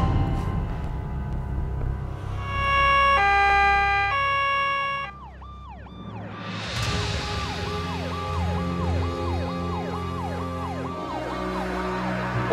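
An ambulance siren wails in a fast, regular two-tone cycle, loud and close, after a stretch of sustained tones.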